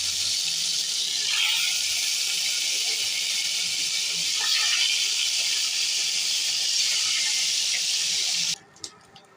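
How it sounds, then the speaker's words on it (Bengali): Hilsa fish fry in hot oil, giving off a loud, continuous broadband hiss and sizzle with small bursts of crackle. The sound holds steady for about eight seconds, then stops abruptly. "এই তো আমার ইলিশ মাছগুলো ভাজা হয়ে গেছে।"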